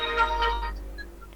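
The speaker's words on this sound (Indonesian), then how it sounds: "Bentar ya, saya terima telepon dulu ya." Telephone ringtone in an indoor room, a short electronic ringing burst that fades out within about a second, with faint tonal beeps trailing after; no one speaks.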